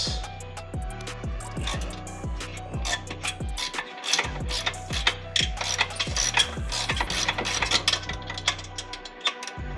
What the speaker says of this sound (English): we're getting the bolts off the turbo now. We're getting the bottom Manifold bolts.